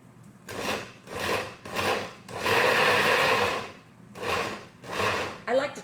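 A blender pulses cashew dip ingredients for a cinnamon cashew dip in loud, close bursts: several short whirring pulses, then one longer run and a few more short pulses.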